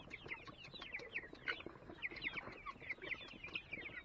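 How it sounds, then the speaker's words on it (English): Guinea fowl and chickens call and cluck in a dense, rapid chatter while being caught, a restless flock sounding close and continuous with no talking. "I gotta catch some chickens now. Mainly guineas."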